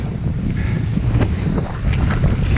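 Strong autumn wind buffets the microphone while cycling on an open road past floodplains, a loud continuous rumbling roar with gusty swells throughout.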